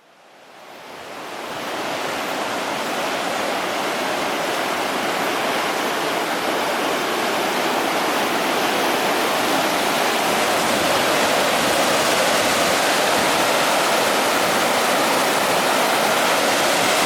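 Rushing water from the North Fork of the Blackfoot River swells up within a couple of seconds into a steady, loud, broadband roar that holds unbroken, with no voices.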